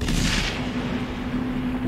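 Heavy gunfire in the video game Inside: a loud, dense burst of booming shots at the start that fades into a sustained rumbling roar.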